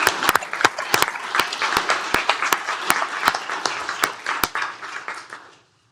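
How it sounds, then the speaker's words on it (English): Applause breaks out at a Tarrant County commissioners court meeting, steady clapping from a roomful of people for about five seconds, with a few sharp individual claps standing out before it fades. "How about a big round of applause for Aaron Barnes?"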